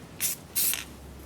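Spray paint hisses onto an old desk being turned into a monitor stand, two short close bursts with a brief pause between, and no talking.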